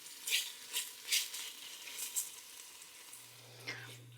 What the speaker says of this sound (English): I'm just going to let that cook for 3 to 4 minutes until my onions start to brown